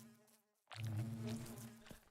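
Bees from a modded Minecraft world drone with a steady insect-like buzz that swells suddenly and then holds for over a second, close and fairly loud.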